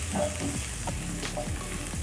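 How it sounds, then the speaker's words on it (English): Onions and garlic sizzling in a pan while frying for a beef liver dish: a constant, close crackling hiss broken by short stirring scrapes and clicks. "Just when the onions are about to be soft, I'll add my garlic."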